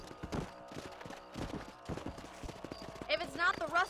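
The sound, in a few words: horse hooves in Red Dead Redemption video game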